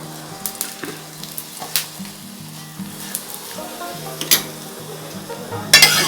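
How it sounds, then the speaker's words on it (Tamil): Chapati cooking on a pan with sesame oil, a steady close sizzle punctuated by soft clinks and scrapes of a utensil against the pan, with no one speaking. "ரெண்டு பக்கமும் நல்லா வெந்ததுக்கப்புறம் கொஞ்சமாக நான் நல்லெண்ணெய் தான் ஊற்றுறேன்"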